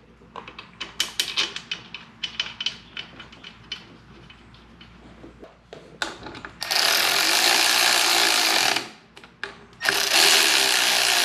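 A ratchet wrench tightening the wheel bolts on a 2023 BMW S1000RR motorcycle, with rapid clicking strokes close by, followed by two loud, sustained broadband bursts near the end.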